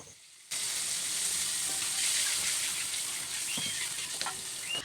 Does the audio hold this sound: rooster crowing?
no